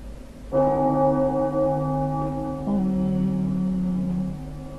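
A loud bell in Bloodborne rings twice, each strike a clear metallic tone with long ringing overtones that slowly fade, alone without talk.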